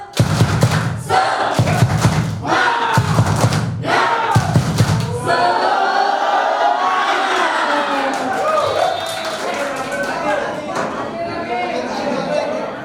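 A group of teachers beats out the tepuk semangat, a rhythmic clap chant, in several loud, evenly spaced bursts before it dissolves into a continuous mix of crowd voices and chatter.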